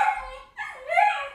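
A puppy barks and yips in two short, high-pitched bursts separated by a brief pause, fairly close and clear, with no voices over it.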